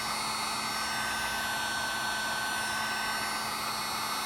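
A hot air blower running on high heat, used on a 1969 Camaro Astro Ventilation cable repair, gives a steady, close, loud whooshing hiss with an even motor hum throughout.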